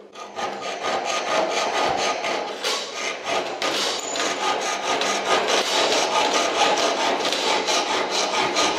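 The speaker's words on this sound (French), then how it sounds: "on essaye de légèrement griffer la petite baguette en alu" Steady back-and-forth rasping of a hand saw cutting through a thin aluminum angle strip, continuous and close, with no talking.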